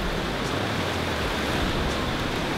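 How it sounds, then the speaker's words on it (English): A river flowing through Gstaad, Switzerland rushes close by as a steady, broad hiss of moving water, constant and unbroken with no voices over it. "So what you're hearing right next to me right now is the river that flows through Gstaad."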